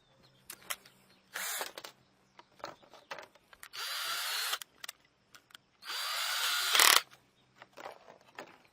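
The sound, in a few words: drill driving screws into plexiglass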